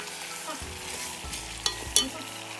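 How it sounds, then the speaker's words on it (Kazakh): Carrots frying with onions in a pan for pilaf make a strong, close sizzle, with a few clanks of the stirring utensil near the end. "Пиязды қуырып болғаннан соң үстіне сәбізімізді салып, 5-10 минуттай жақсылап қуырамыз."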